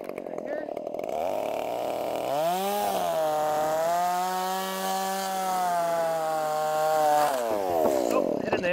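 A chainsaw bites into a timber rafter joint while framing a log cabin roof, its engine note dropping into a steady strained drone for several seconds before rising again as the cut ends.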